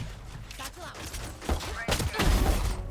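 Rapid gunfire bursts in Valorant team deathmatch, clustered shots growing louder toward the end, with a person talking over them.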